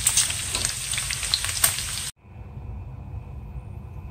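Onion fries in a pan after bacon, a loud crackling sizzle with bright spatters for about two seconds, then dropping abruptly to a quieter, steady low fry.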